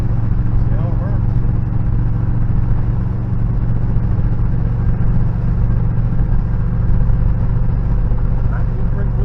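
A 1969 Pontiac Firebird engine runs while the car is driven, a steady low rumbling drone with constant road noise throughout and no clear revving peaks.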